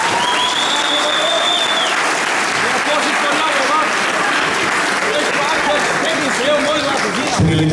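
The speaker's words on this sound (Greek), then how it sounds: "θα σας παρακαλούσα για ένα πολύ δυνατό χειροκρότημα και για τους δύο αυτούς κυρίες." Crowd at a cage fighting event applauds after a fight between two women, loud sustained clapping and cheering filling the whole stretch, with an announcer's voice faintly mixed in.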